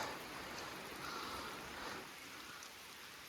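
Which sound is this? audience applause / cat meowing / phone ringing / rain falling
rain falling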